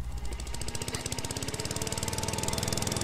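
A man's lawn mower in the video game Beyond Eyes chugs loudly and close, its engine beat settling into a fast, even pulse that strengthens as it runs, with no voices.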